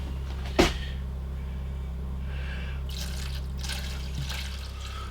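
Water poured onto soaking peat pellets: one sharp splash at the start, then soft, intermittent trickling and dribbling over a steady low hum, with no voices.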